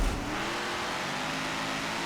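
In Forza Motorsport 7, a trophy truck's engine roars steadily at high revs during a race, a loud, dense, continuous drone with no talking.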